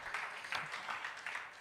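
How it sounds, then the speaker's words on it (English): At a boys' summit, a hall audience gives soft, steady applause that swells in waves, faint and somewhat distant with no clear voices over it. "A round of applause for the last ones one more time"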